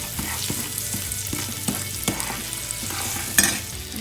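Spices frying in hot oil in a pan and being mixed, a close, loud crackling sizzle with sharp spatula scrapes and a metallic clink near the end.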